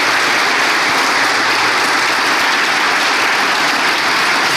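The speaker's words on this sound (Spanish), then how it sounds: "Glorifíquelo con un fuerte aplauso al que vive y al que reina" A church congregation claps loudly and continuously, a dense and even wall of applause filling the room from start to finish with no voices standing out.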